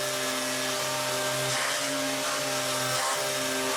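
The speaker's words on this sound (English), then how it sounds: "It looks like the sander moves easily" A sander with dust collection runs continuously on a wooden cutting board, giving a steady whirring hum with a rushing airflow noise. The pitch wavers slightly as the sander is pushed along the grain.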